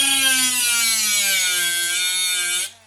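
An angle grinder cuts into steel coated with a nickel-molybdenum layer, giving a steady, close, high-pitched whining drone for under three seconds before it stops abruptly.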